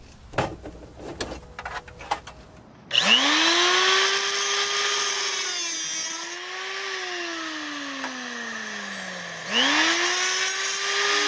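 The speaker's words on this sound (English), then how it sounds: "So I'm going to trim one of the fins so we could slide it in more" A power tool cuts into the metal fin of a visor bracket, starting with a few sharp taps and then running as a loud, sustained whine whose pitch sags and climbs as the load on the fin changes.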